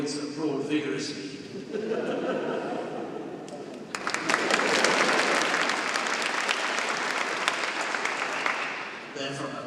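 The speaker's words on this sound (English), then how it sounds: "Immediately, 3 people in the audience applaud vigorously." Audience applause at a performance of an oratorio: after a quieter opening with a voice, loud vigorous clapping bursts in and continues steadily, then eases near the end.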